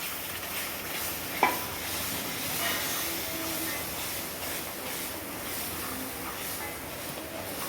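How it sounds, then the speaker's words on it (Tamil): Ground coconut is stirred nonstop in a hot pan, making a continuous close scraping hiss with a soft sizzle and one sharp knock of the spoon early on. "இது வந்து நம்ம கை விடாமல் கிண்டணும்"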